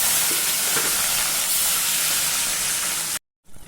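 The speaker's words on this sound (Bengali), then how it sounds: "লাল করে কড়া করে ভাজবো" Pieces of fish frying crisp in hot oil for Bengali-style macher jhol; a loud, close, continuous hissing sizzle that cuts to silence near the end before resuming briefly.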